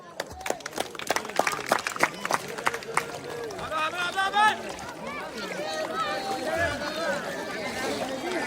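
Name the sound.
village crowd clapping for the river tube-crossing race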